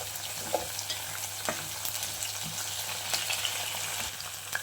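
Capsicum and potato frying in a pan with green chillies and curry leaves, a steady close sizzle broken by scraping stirs and small crackles throughout, with no talking.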